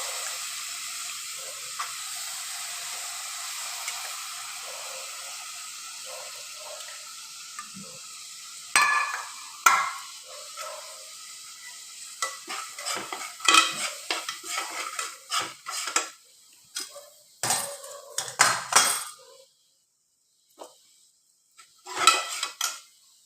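Peanuts and taro leaf curry stirred in a pan: a soft simmering hiss underlies irregular scraping and clinking of a spoon against the metal pan, growing busier midway with bursts of rattling strokes.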